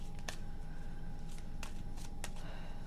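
Tarot cards being shuffled by hand, several quick crisp riffling bursts, close and fairly quiet, separated by short pauses over a faint steady background hum.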